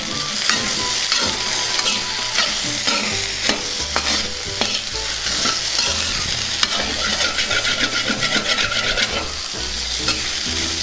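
Spiced taro root fry being stirred in a hot pan, steady close sizzling with repeated scraping strokes of a spoon against the pan, running continuously under a low musical backing.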